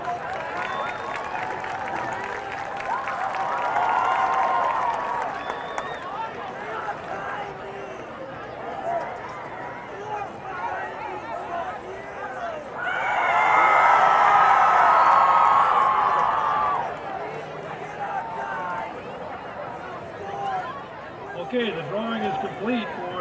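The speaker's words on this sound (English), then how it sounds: "Let's have a nice round of applause for those gentlemen." Crowd at a Lincoln High home football game against Watertown applauds and cheers, swelling twice into loud rounds of clapping and whoops amid steady stadium chatter.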